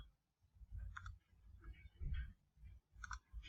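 A computer mouse clicks a few times in a Windows Server domain setup, with short crisp clicks in small clusters over low rumbling background noise, with no talking.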